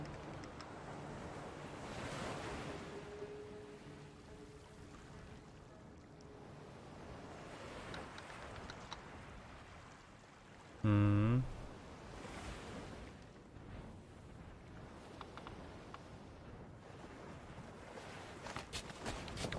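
Ship sailing through ocean waves in the pirate game Sea of Thieves, with a steady wash of surf and wind, swelling and easing, and a short loud burst partway through.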